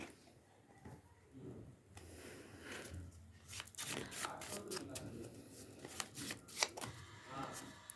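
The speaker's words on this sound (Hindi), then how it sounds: "पहले मैं अपने हाथ से बने हुए कार्ड निकाल रही हूँ" Handmade tarot cards are pulled out and shuffled, giving soft papery riffles, slides and taps that grow busier midway, close and fairly quiet, with no talking.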